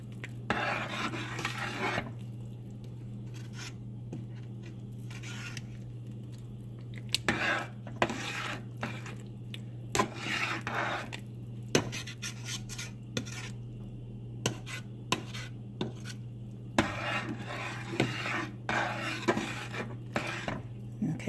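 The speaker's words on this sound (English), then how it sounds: "I sprinkled some flour on top. Okay, just a little, and then I'm gonna stir it and mix it in." A metal spoon stirs flour into the simmering juice of a pot of chicken and dumplings, with irregular scraping clinks against the pot over a low steady hum, faint and close, without talk.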